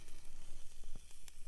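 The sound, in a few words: steak sizzling in pan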